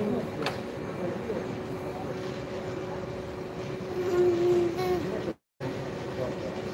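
A train rumbles steadily at a railway station with a sustained low hum and faint clatter, heard at moderate distance, with a short break in sound near the end.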